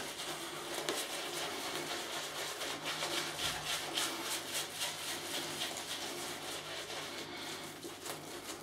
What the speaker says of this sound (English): Nice lather.